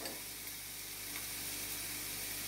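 Chicken fries in a pan with garam masala and roasted coriander seed powder, producing a faint, steady sizzle with light stirring over a constant low hum.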